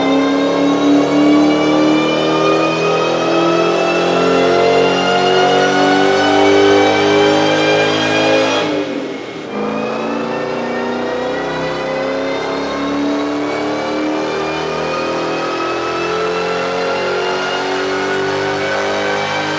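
Supercharged Ford Terminator Cobra engine revving hard on a dyno, a loud sustained high-rpm wail with rich harmonics that briefly drops off near the middle, then holds steady again, with no talk over it.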